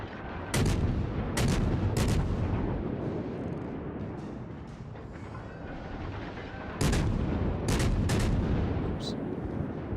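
Heavy naval guns boom in World of Warships, several deep, loud salvos fired in clusters, with a rumbling sea and engine bed rolling continuously between shots.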